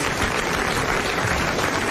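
Studio audience applause on a French TV variety show, a dense, even patter of clapping filling the whole brief moment with no voices over it.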